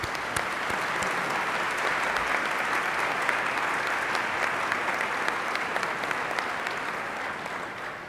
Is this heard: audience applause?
yes